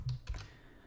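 A quick burst of typing on a computer keyboard: a few close, soft key clicks in under a second, then quiet.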